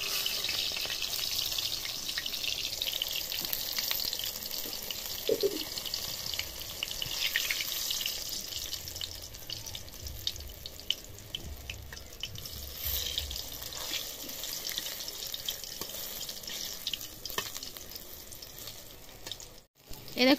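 Beguni, battered eggplant slices, frying in hot oil at home, giving a steady close hiss and crackle that runs almost unbroken for the whole stretch, with a brief dropout near the end.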